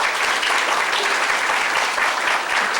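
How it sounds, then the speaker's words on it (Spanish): An audience applauds steadily, a dense wash of clapping from many hands that stays strong throughout. "un fuerte aplauso"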